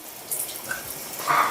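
Tap water running during a dog's bath at home, a steady moderate hiss with brief splashy surges, heard alone without talk.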